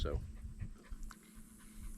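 Several dogs on a farm pant and whimper faintly while being held back, soft breathy and whiny sounds beneath a person talking nearby.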